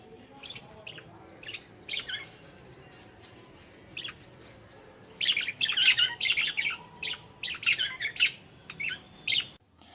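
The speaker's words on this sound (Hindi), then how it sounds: "आपने दिए हुए इस चित्र को देखा और चिड़ियों की चींची की आवाज़ की वीडियो भी देखी" Small birds chirp and tweet in quick, bright bursts, sparse at first and then a denser flurry of overlapping calls near the end, fairly close against a quiet background.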